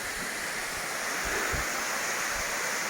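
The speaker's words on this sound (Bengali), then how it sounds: "এই যে ওয়াটারফলের জলগুলো এখান দিয়ে নেমে আসছে, আর এই যাচ্ছে ওই পাহাড়ের উপর থেকে নামছে" Silver Waterfall in Sapa, Vietnam, gives a steady, loud, broadband rush of falling water that stays constant throughout with no voices.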